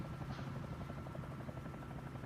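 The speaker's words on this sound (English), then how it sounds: "The helicopter's so much fun, it's so nimble." A helicopter in flight gives a steady rhythmic rotor chop over a continuous low engine drone, heard faintly and evenly throughout with no voices.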